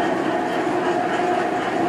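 A model railroad logging train runs along its track beneath a miniature city layout, making a steady, fairly loud mechanical rumbling hum that holds throughout the two seconds.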